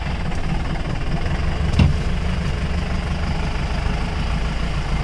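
A modified Jeep engine idles close by with a steady low rumble, marked by a brief louder thump partway through, as if the engine is catching on starting.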